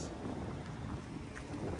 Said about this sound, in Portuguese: Trouxemos chuva pra centro da cidade.